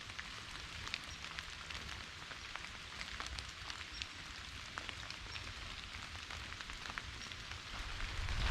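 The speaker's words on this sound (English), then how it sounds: "listen to the raindrops hitting your rain jacket and the leaves and the branches around you" Raindrops patter steadily on a rain jacket, leaves and branches along a forest hiking loop trail, a soft continuous crackle of close, faint drops with no talking.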